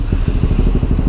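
A Kawasaki ZX25R motorcycle engine running loud and close, a rapid rough pulsing rumble with clattery texture, steady throughout with no voices.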